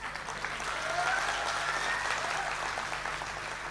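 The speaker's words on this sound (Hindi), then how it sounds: "इससे ज्यादा ताली बजानी पड़ेगी।" Sustained audience applause fills a Hindi comedy and entertainment stage show, with steady, dense clapping at a moderate distance holding at an even level throughout without any talk.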